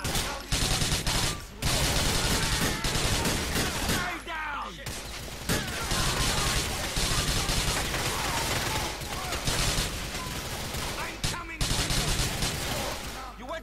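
Sustained gunfire in GTA IV, with dense overlapping shots and rapid bursts firing almost continuously at close range, broken by a few brief pauses.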